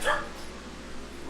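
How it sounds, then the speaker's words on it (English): A Jack Russell terrier gives a short bark or yip right at the start, then the rest stays quiet, with low room hum. "Apologize for my dogs."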